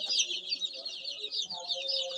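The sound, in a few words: chicken clucking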